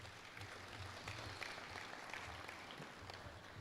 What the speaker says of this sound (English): So let's give Francis a big round of applause.